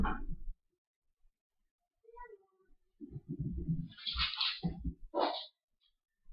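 Water is poured into a container, filling it to 1,000 milliliters for a cell homeostasis lab, and comes as short, splashy bursts between stretches of speech.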